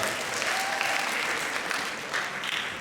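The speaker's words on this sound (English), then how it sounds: "Give yourself a big round of applause." An audience at a Richmond event gives a big round of applause, a dense, continuous clapping from many hands, steady and moderately loud throughout.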